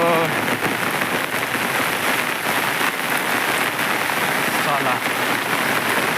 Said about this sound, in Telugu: బీభత్సమైన వర్షం